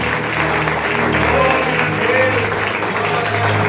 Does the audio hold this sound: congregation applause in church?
yes